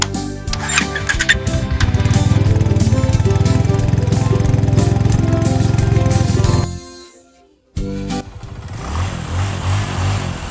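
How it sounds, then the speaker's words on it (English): A loud motorcycle engine revs and roars close by, holding a rough throaty drone before cutting out briefly, then restarting with a lower rumble. "Motorcycle."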